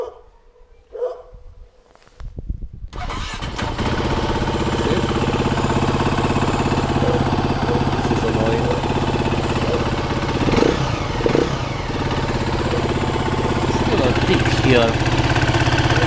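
KTM 350 EXC F dirt bike engine cranking after a few quiet moments, then catching and settling into a loud, steady idle that runs on with small rises in revs, with faint voices under it.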